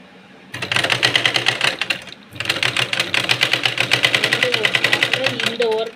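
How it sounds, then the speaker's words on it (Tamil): Sewing machine stitching the sleeve seam of a blouse, a fast, steady mechanical rattle in two close bursts separated by a brief pause, with a voice talking over the second run. "கரைக்கோட்டு பகுதி இது பிரியாது இல்லையா அதனால் இப்படி தைச்சிருவோம்"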